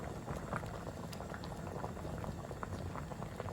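Cabbage soup simmering in a covered pot, a steady close bubbling and popping that runs evenly throughout with no voices.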